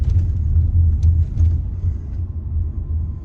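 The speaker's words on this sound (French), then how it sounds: "passer les 3 dodanes d'affilée et me taire complètement" Inside a Renault Arkana RS Line E-TECH 1.6 145 hybrid SUV with automatic gearbox, a deep, steady cabin rumble with a few light knocks as it rolls over speed bumps.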